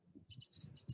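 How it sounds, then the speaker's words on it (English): Downy woodpecker giving a rapid run of sharp, high chattering calls while agitated by a nearby red-bellied woodpecker, several bursts over a second with low background rumble. "That is like a downy woodpecker, very unhappy with the presence of a red belly"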